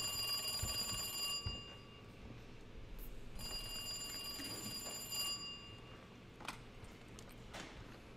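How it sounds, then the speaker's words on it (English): A phone rings in the video game Resident Evil 2 Remake, two bright, trilling bell rings separated by a short pause, clear over a low ambient hum. "Are we really getting a phone call right now?"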